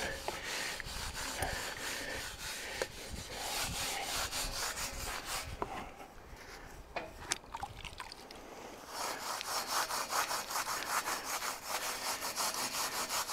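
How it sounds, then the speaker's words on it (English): An SOS pad scrubs back and forth across a very rusty metal truck roof fairing, a rapid rhythmic rasping that pauses briefly midway, then resumes, close up with no talk. "So it's just an ordinary SOS pad, but there's something in the soap that responds well to rust."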